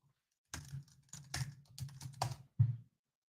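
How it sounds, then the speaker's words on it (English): Someone types on a computer keyboard in a quiet room, a few short clusters of soft key clicks followed by one firmer final tap. "I'm just going to type in."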